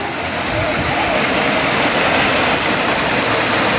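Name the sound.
waterfall with clear water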